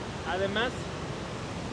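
Waterfall at Zacatlán de las Manzanas, a steady broadband rush of falling water filling the scene throughout, with a voice briefly speaking over it near the start.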